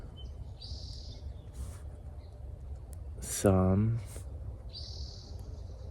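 Faint high bird chirps and song phrases come from a distance against a noisy outdoor nature setting, briefly interrupted by a person speaking.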